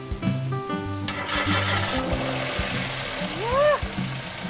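A car engine cranks and catches while powered by a 12V jump starter power bank, the start rising in a brief surge near the middle before settling into a running note, with people talking around it.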